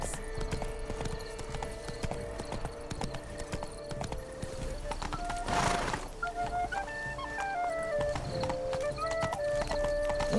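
A horse gallops with steady, rapid hoof clip-clop in The Witcher 3: Blood and Wine, layered over game music and ambience, with a brief whooshing swell midway and a melodic line rising toward the end.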